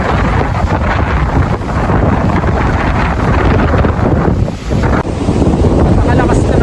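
Strong gusting wind buffets the microphone on the summit of Mount Udok in Maria Aurora, a loud, roaring, continuous rumble that swells and dips briefly before surging again.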